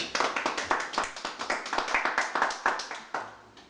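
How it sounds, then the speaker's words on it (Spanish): A church congregation claps in unison, a brisk, evenly spaced run of sharp group claps at moderate volume that slows and thins out toward the end. "Dale fuerte el aplauso."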